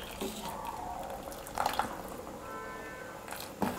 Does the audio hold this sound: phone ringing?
no